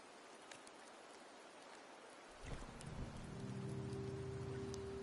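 Rain falling in the video game Wuthering Waves, a steady soft hiss of rainfall with a low rumble and sustained tonal music swelling in after a few seconds, no voices.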